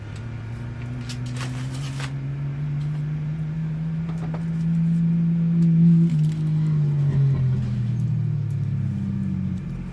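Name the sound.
race cars passing on dirt track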